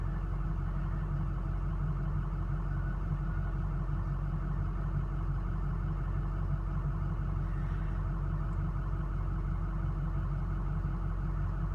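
A 2006 Ford diesel truck engine idles at operating temperature, a steady, close, unbroken low rumble with an even mechanical clatter and no voices.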